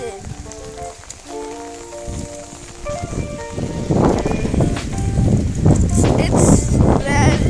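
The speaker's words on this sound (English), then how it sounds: "It's very rainy." Rain on a rainy day, a broad patter of drops on surfaces that starts softer alongside other sounds, then swells into a loud, steady downpour close by.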